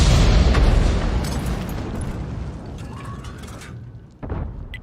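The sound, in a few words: tank shell hitting turret in a tank video game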